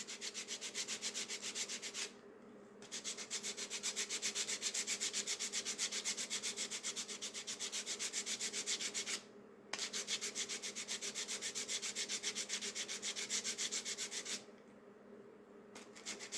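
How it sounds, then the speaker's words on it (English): Sandpaper rubbed back and forth over an aluminium Bigsby vibrato part from a Gretsch guitar, a continuous rasping hiss in long strokes with two brief pauses, close and alone. "Once it's totally flat, I'll start using smoother sandpaper."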